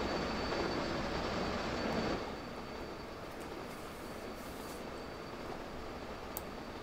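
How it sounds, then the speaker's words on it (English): Train on a branch line in the video game Transport Fever 2, rolling along with a steady rumbling wheel-and-rail roar that drops slightly in level partway through, with a faint squeal above it. "That's the fastest this train's gone on its journey so far."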